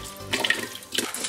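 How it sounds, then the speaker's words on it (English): A tiny amount of water is poured into a small pot, giving two short splashing trickles with a brief pause between them, close up and fairly quiet. "I put a tiny bit of water in it"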